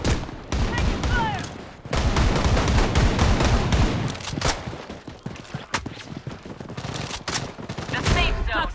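Bursts of automatic gunfire and single shots in the Blood Strike shooter game, loud and close, with heavy rapid volleys broken by short pauses, under occasional in-game voice callouts.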